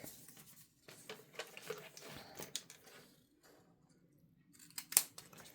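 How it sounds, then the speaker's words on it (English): Scissors snipping tape for a tab journal, close and fairly quiet, with a run of small cuts and rustles followed by a sharper final snip near the end, with no talk. "So I need to cut some more tape."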